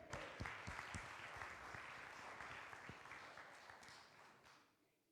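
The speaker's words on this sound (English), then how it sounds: "So if you guys want to give him a round of applause" A church congregation applauds at a Sunday worship service, a steady patter of many hands clapping that slowly thins and fades away over several seconds.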